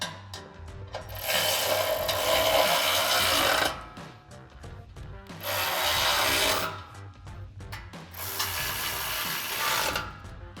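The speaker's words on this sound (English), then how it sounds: "now we're gonna tighten our bottom bolts with our 16 mil wrench and our 16 mil socket" A ratchet wrench with a 16 mm socket tightens the bottom bolts of a front bumper guard on a 2024-2026 Toyota Tacoma, giving three long bursts of fast clicking separated by short pauses, close and clear with no talk.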